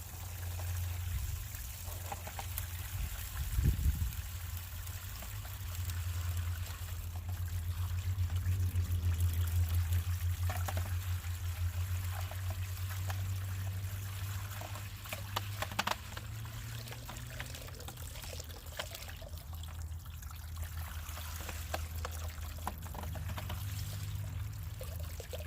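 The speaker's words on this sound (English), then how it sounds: "Grab the other trough and do the same thing. Just gently rinse it all down." Water is gently poured to rinse a garden trough outdoors, a soft continuous trickle and splash under a low steady hum, with a few brief louder knocks.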